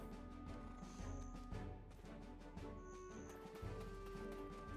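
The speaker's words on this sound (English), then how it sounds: "Oh, hey, horse. Horse came to me." Horse hooves clip-clop at a steady trotting rhythm in Black Desert Online, closing in over a constant backdrop of game ambience, with a faint tonal chime above.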